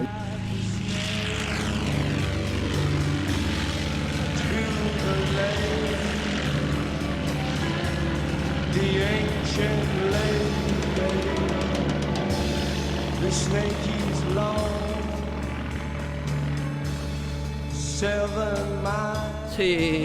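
Aerobatic propeller airplane taking off at an air show in Saint-Junien, a loud, steady engine drone with shifting tones that holds throughout, with people talking faintly in the background.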